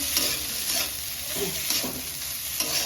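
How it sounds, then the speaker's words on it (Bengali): Grated boiled egg mixture frying in a pan, a steady close sizzle with soft scraping and stirring strokes throughout, no talking. "এবার এগুলোকে ভাজা করা হবে।"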